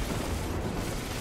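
A dense, rumbling blast fills the scene in the sci-fi shooter Destiny 2, a broad noisy explosion roar that holds steadily loud for its whole length with no speech over it.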